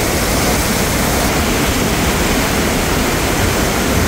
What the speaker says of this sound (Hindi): पानी दी जड़ियां लहरां ने ठाठा मार रही ने